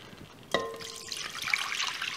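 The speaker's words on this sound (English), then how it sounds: "add our water" Water is poured into a mixing bowl while making bread dough: a sudden splash starts partway in, then becomes a steady, close, bright trickle and splatter that keeps going to the end, with no talking.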